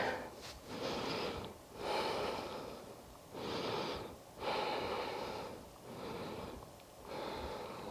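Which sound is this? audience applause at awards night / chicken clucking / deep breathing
deep breathing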